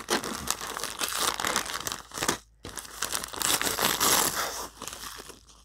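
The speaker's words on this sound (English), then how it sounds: "Crinkling." A plastic package crinkles and crackles loudly up close as it is torn open, with dense rustling bursts, one short pause midway and then more crinkling, and no talking.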